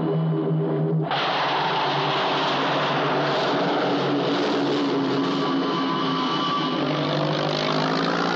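An airplane's engines roar up sharply for takeoff on a runway, a loud, steady broadband rush that holds at full strength throughout.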